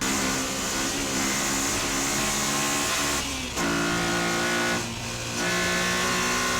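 A Honda S2000 engine screams upward to 9,000 RPM through the gears, with brief dips at each shift before climbing again, loud and close.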